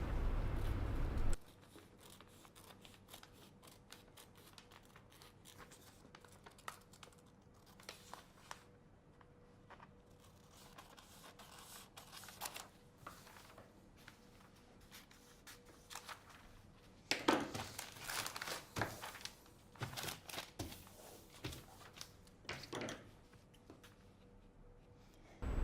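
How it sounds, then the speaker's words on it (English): Scissors snip through the front sewing pattern for a Chanel-style jacket, with quiet, scattered cuts and a denser burst of crisp snipping near the end. "I can start cutting the front pattern now."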